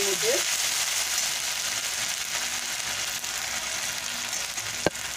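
Masala frying in a pan just after soaking water is poured in, for a vegetarian papaya and potato dish, a soft, continuous hissing sizzle with one sharp knock near the end.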